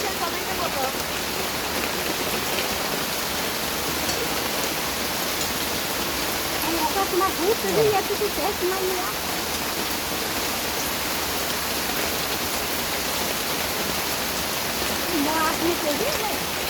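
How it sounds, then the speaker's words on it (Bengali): Heavy morning rain pours down steadily in a dense, even hiss that fills the whole stretch, with faint voices surfacing briefly in the background. "এখন বিশাল বৃষ্টি হচ্ছে সকালবেলা।"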